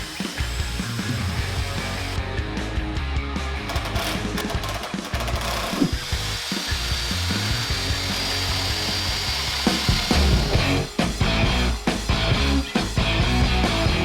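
A domino joiner cuts mortises into wood panels for the side pieces of a TV console. A loud, steady power-tool whine with grinding, rubbing wood noise runs throughout, close and unbroken, with a few harder knocks near the end.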